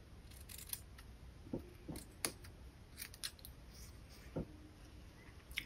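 Scissors snip diagonally through card stock for a handmade fun fold card, giving a series of faint, sharp, irregular clicks and cuts spaced apart in a quiet room.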